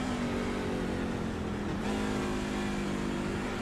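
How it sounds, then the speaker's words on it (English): Racing trucks in a truck series at the Milwaukee track drone by with engines held high, a pitch dip near the middle as one downshifts, then a steady loud roar again. "And you hear the downshift where these guys got to go down to 3rd gear."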